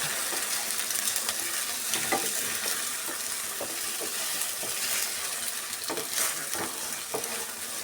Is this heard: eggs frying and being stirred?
yes